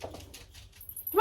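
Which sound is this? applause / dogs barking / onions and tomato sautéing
dogs barking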